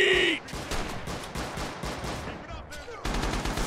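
Rifle and machine-gun fire in the Rising Storm (Red Orchestra 2) World War II shooter, rapid cracking bursts repeating through the clip, loud and close with a short pause before another volley.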